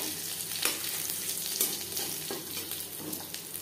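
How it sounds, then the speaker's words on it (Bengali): Crushed garlic fries lightly in a pan of oil for an ol leaf bhorta, giving a steady soft sizzle with a few scraping stirs of a spatula, close and alone. "রসুন হালকা করে ভেজে নেব। এভাবে ভাজতে হবে যাতে পুড়ে না যায়।"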